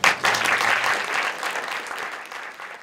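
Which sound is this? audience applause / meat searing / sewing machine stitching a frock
audience applause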